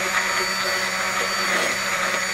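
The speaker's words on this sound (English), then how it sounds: "And then we're just going to take our immersion blender and blend this a bit." Immersion blender whirring through homemade leave-in conditioner mixed with about 6 ounces of water, a steady, loud motor drone running continuously throughout with no break.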